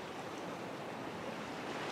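Ocean waves wash steadily around coastal rocks, a continuous broad rushing surf at moderate level with some wind, no talk.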